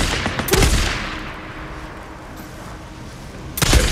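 Sniper shots ring out in Days Gone: a pair of sharp, loud gunshot cracks early with ringing decay, then a quieter lull, followed by another powerful shot near the end.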